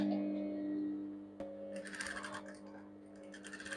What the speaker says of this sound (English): So now I'm sewing from the right side now.